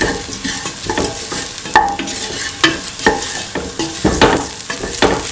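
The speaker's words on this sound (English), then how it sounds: "Mix in the salt." Salt is stirred into a tofu and rice mixture in a pan, with a run of scraping, clattering stirring strokes over a soft sizzle, loud and close, and no voices.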